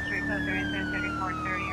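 Police car siren from GTA 5 (LSPDFR) on a code 3 response, a steady wail tone sliding slowly downward and repeating, loud and close, with a faint voice underneath.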